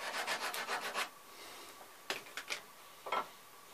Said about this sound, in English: I'm going to take some sandpaper and just sand the edge a little bit